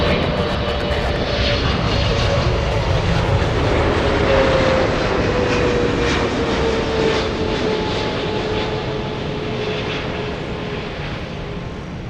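Delta jet airliner at LAX, a loud steady roar of jet engines with a slowly shifting whine, close and continuous for the whole stretch.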